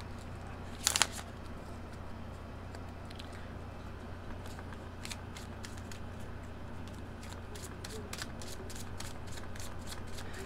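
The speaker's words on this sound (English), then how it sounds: "Let me shuffle it for you." Tarot cards are shuffled in a short close burst of crisp riffling, followed by faint scattered card ticks over a quiet background hum.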